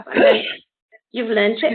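A single sharp sneeze bursts out close by, followed at once by a person speaking.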